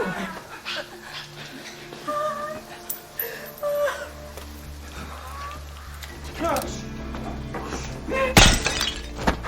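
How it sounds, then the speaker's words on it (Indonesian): Glass door shattering in a dramatic scene, a sharp loud crash near the end set against a busy background of music, a dog's whimpers and yips and scattered voices. "memecahkan pintu kaca"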